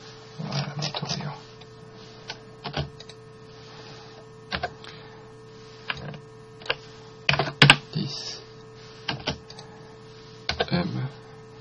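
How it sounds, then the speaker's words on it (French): Computer keys pressed at irregular intervals while a CAD model of a wooden console with dowels is edited, sharp clicks over a steady electrical hum, with someone talking at times. "j'enfonce la touche droite au clavier"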